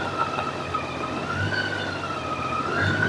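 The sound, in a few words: Honda Goldwing motorcycle horn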